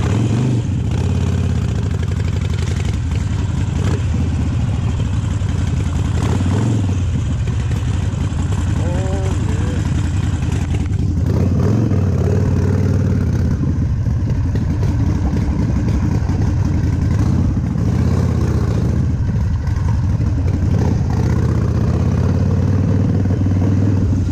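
A Harley-Davidson Sportster XL1200CX Roadster motorcycle engine runs steadily throughout while riding, a loud continuous low rumble with shifting revs and clattery road noise from cobblestones, over a long stretch.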